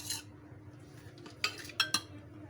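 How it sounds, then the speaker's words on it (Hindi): A spoon mixes a chicken, onion and cheese filling in a bowl, giving a few quiet scrapes and three sharp clinks against the side near the end, soft and close, without speech. "अब इन सारी चीज़ों को हम अच्छे से मिक्स कर लेते हैं"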